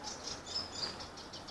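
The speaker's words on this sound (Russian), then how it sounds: "Птички чирикают." Small birds chirping outdoors on a quiet morning walk, faint high twittering calls repeating every fraction of a second against soft ambient background.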